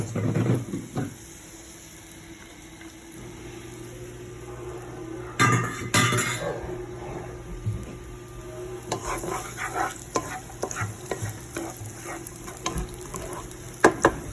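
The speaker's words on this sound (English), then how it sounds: "I'm going to go ahead and add my onions and my garlic so they can begin getting caramelized" Onions and garlic sizzle in a pan while they caramelize for risotto. A low, steady fry runs throughout, broken by a few louder clatters and scrapes of utensils against the pan near the middle, with no voices.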